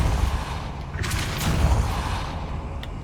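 The Depulso force spell is cast in the Hogwarts Legacy video game: a heavy, booming blast swells out of a dense rumbling game soundscape, then fades back into the steady background.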